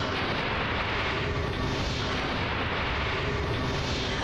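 Torpedoes launching in the naval combat game War on the Sea, heard as a continuous, dense roar of rumbling, booming noise that stays loud and steady throughout without pauses.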